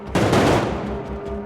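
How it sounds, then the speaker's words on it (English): A pyrotechnic explosion on the Oblivion film set with mortar and propane popper effects, a sharp close blast that bursts out suddenly and then rumbles away, loud and alone. "pyro explosions."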